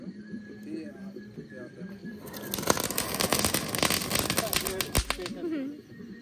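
Firecrackers crackle at a lakeside campsite at Bhandardara, with a dense burst of rapid sharp pops and snaps lasting a few seconds after quieter moments, while people talk nearby.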